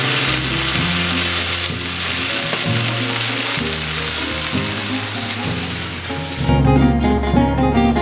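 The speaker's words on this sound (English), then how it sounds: "Make sure the red pepper cooks all the way throughout." Red pepper frying in a paella pan for a beef paella, a steady close sizzle that runs the whole time, with a thicker burst of crackle near the end.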